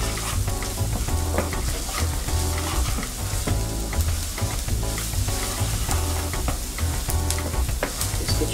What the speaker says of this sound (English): See, our onions are cooking here.